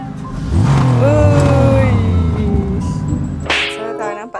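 A pink Perodua Myvi engine revving up and easing off, close and loud, with a whoosh of passing air and a voice speaking briefly near the end.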